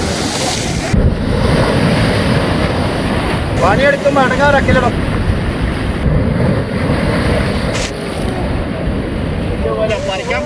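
Atlantic Ocean water and waves roll in steadily along the shore, a loud continuous surf wash with heavy wind buffeting the microphone, and a person talks briefly over it.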